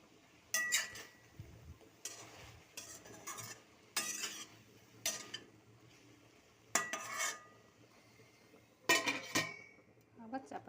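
A pot of kochur loti (taro stolons) cooked without oil is stirred and its lid set back on, giving a series of close, distinct metallic scrapes and clinks in short bursts separated by quiet gaps.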